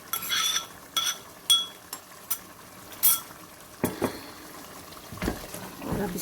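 Onion, yogurt and masala frying in a pan, a low sizzle broken by repeated sharp scrapes and clinks of a spoon stirring against the metal, close and uneven in rhythm.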